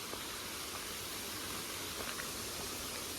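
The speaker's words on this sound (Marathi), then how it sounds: "तुम्ही हा आवाज ऐकायला येत असेल तुम्हाला हा जो आवाज पाण्याचा आहे" A river flowing past a small village near Wai in Satara gives off a steady, even rush of water. The sound holds constant and fairly soft throughout, with no voices over it.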